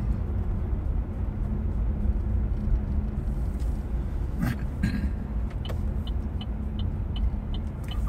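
A passing car outside a home gives a steady low rumble that holds through the whole stretch, with faint distant household clatter and brief higher ticks on top and no voices.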